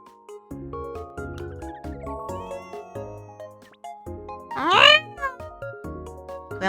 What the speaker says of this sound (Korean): 고양이 소리 내드렸고요.